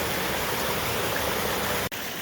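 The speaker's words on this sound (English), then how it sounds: "And the little waterfall is right there that goes over the top." A small waterfall spilling over rock in a winter creek canyon in the Oregon Coast Range, a steady full rushing roar of falling water, close and unbroken except for one brief dropout.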